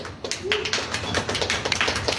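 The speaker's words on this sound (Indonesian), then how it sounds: "Tepuk tangan." A crowd claps at a gathering, a brief run of dense, overlapping hand claps at moderate volume, close and lively for a couple of seconds.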